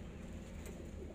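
A pigeon coos softly in a low, throaty murmur, faint and close, with no talking.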